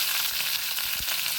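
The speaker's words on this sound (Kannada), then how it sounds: "ಇಲ್ಲಿ ಎಣ್ಣೆ ಕಾಯಿತು, ಇದಕ್ಕೆ 1 ಚಮಚದಷ್ಟು ಸಾಸಿವೆ ಹಾಕುತ್ತಿದ್ದೇನೆ" About a spoonful of mustard seeds sizzles and crackles in hot oil, a loud, close, steady hiss with a few sharper pops.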